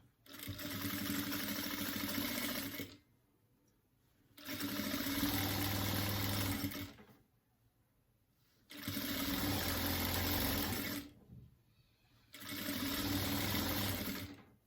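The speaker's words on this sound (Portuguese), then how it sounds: "eu vou costurar na beiradinha de um lado e depois na beiradinha do outro lado" A sewing machine stitches along the edge of a dish towel in four sustained whirring runs, each a few seconds long and separated by brief quiet pauses, heard up close with no talking.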